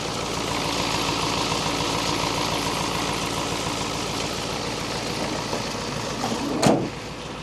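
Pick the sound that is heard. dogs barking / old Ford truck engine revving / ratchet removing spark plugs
old Ford truck engine revving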